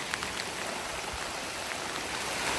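Continuous rain falling steadily on a farm planted with beans and ampalaya, a dense, even hiss with scattered droplet patter, no voices.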